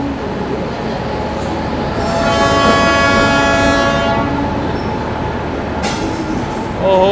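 The 12626 Kerala Express pulls into platform 3 at New Delhi railway station in the evening, rumbling close by with a long horn blast in the middle of its approach.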